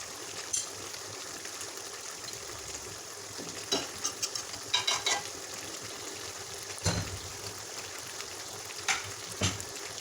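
Stinging catfish simmering in a pan with taro stolons and boiled jackfruit seeds, giving a steady soft sizzle and bubbling with occasional stirring clinks and scrapes throughout, no voices.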